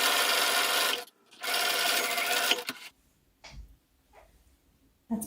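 Sewing machine back stitching over ribbon on a fabric face mask, with two loud bursts of rapid mechanical whirring separated by a brief stop, then quiet handling clicks and rustles.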